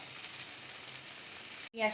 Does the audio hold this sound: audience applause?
no